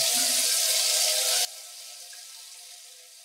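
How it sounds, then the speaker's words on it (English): Tap water runs steadily over a dirty brass lamp piece that has been scrubbed with vinegar and salt, making a loud, even rush that cuts off abruptly midway and leaves a quieter, fainter hiss. "let's rinse that off and see how it runs."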